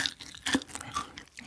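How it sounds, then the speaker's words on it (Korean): Crunchy bites and chewing on potato-coated fried chicken with a crisp, crackly batter, a few close, distinct crunches spread over a short moment with no talking. "이렇게 아삭아삭한 느낌의 감튀입니다"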